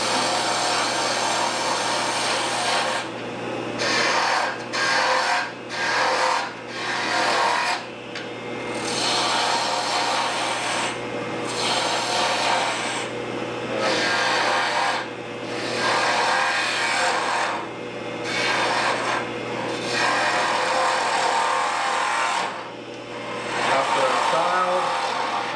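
A bowl gouge cuts wood on a spinning lathe, giving a steady rasping, scraping drone that runs nearly the whole time, with brief pauses where the cut lifts off, close and fairly loud.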